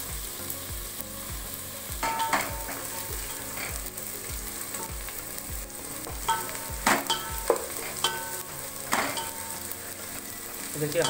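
Sliced onions fry with cumin and bay leaves for a mixed vegetable sabji. A steady close sizzle runs under rhythmic spatula strokes that scrape and stir the pan in quick repeated passes.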